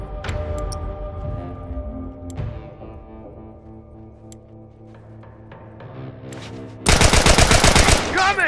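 A turret machine gun fires in The Last of Us during an online match. A dense, loud automatic burst breaks in near the end after a quieter stretch of steady hum and scattered clicks.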